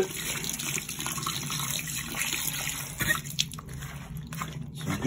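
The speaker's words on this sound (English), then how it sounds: "Run some water over it." Water runs from a faucet over stained clothing as the fabric is rinsed after deodorant stains were brushed, a steady close splash with a few brief knocks and handling sounds, no one speaking.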